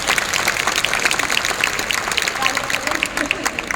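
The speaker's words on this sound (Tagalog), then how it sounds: "Let's give a round of applause" An audience at a Riway business training course in Bangkok breaks into sustained applause, many people clapping in a dense, steady patter, with a voice speaking over it.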